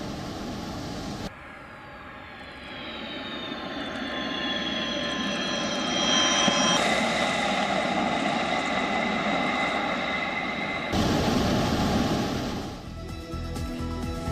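A Russian Sukhoi Su-34 military jet roars past in a sustained, loud engine drone that swells and shifts in pitch as it passes, with the sound changing abruptly at a few points and no talking.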